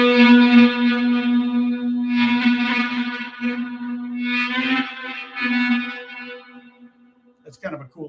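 An electric guitar sustained by an EBow over the neck pickup gives long, smooth, humming notes that swell in and out over several seconds, with a gritty edge and no picking attack.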